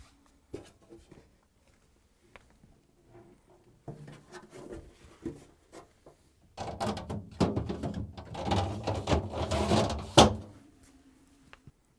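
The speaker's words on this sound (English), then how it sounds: "we're going to install the crisper pans back in, slide it on the rails" Sparse light clicks and taps, then a few seconds of louder sliding and scraping clatter as a plastic refrigerator crisper drawer is pushed along its rails, close by.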